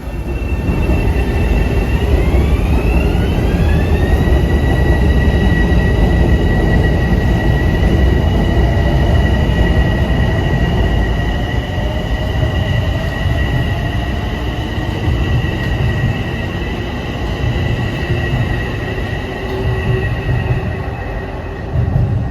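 A Metro North M3 commuter train passes close by, a loud sustained rumble and rush of rail noise with rising and steady wheel squeals and a whining motor tone throughout.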